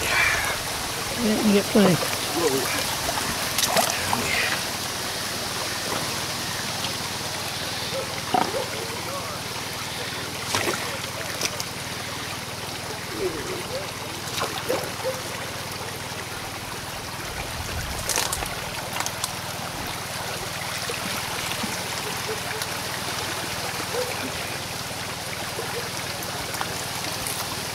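Gravel rinsed in a gold pan in a Colorado stream, with steady flowing water and intermittent splashes and trickles throughout, under occasional nearby voices talking.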